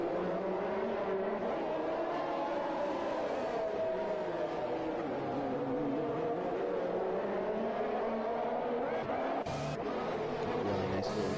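A string of Formula 1 race cars running nose to tail through the Baku street circuit in a racing video game, engines droning continuously at high revs with shifting pitch as the cars pass, loud throughout.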